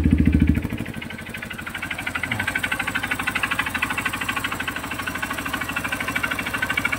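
A Honda CRF150 motorcycle engine idles close by with a steady, rapid metallic knocking ticking through the running noise from a worn connecting rod.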